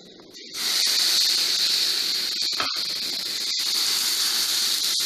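Pancake batter poured into a hot oiled pan sets off a loud, steady hiss that jumps up in an instant and then holds broad and even, with a few brief clicks, close up and with no voices.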